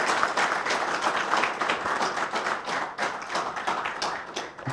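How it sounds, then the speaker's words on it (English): Conference audience applauding the guests at a national retail conference, a steady dense patter of many hands with some individual claps standing out, continuous and fairly close for nearly five seconds. "Please give a big applause to our esteemed guests."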